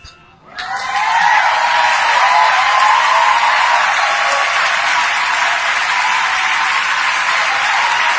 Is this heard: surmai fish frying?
no